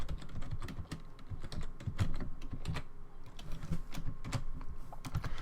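Rapid typing on a computer keyboard while writing Lua code, with a dense, uneven run of close, crisp key clicks and thumps continuing without pause and no voices.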